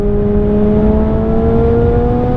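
A Yamaha R6 sport motorcycle engine drones up close and loud, its pitch climbing smoothly and steadily under acceleration without a break, with no voices.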